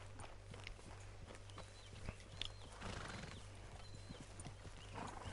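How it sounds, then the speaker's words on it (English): Hooves clip-clop at a walking pace in Red Dead Redemption 2, an even, fairly close rhythm over a low ambient hum, with a faint whinny and scattered outdoor sounds. "Right, grab your horse and let's go."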